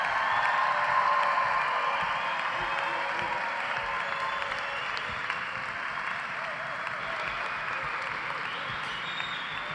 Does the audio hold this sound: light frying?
no